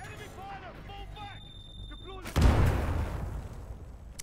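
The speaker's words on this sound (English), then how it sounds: "grenades can be cooked and therefore they can kill you" A grenade explodes in the Titanfall 2 video game with a sudden loud boom that rolls on and fades slowly, following a stretch where a voice talks.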